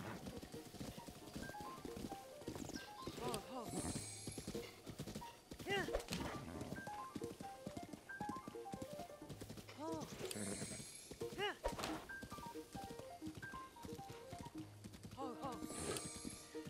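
In The Legend of Zelda: Breath of the Wild, a horse's hooves clip-clop steadily along a road, with occasional whinnies and game music playing underneath.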